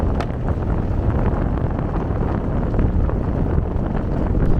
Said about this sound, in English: But you definitely hear a lot of stuff rattle